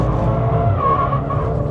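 A Volkswagen Golf 8.5 R's engine roars steadily under load on a track as tires squeal with a high, wavering screech, loud and close throughout.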